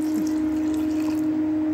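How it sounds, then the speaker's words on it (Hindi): Water poured from a container over grated carrots in a cooking pot for carrot halwa, a steady close liquid splash and trickle alone under a constant low hum. "और ये इसमें मैं पानी डाल रही हूँ, अच्छे से मैं पूरी गाजर को डुबा दूंगी"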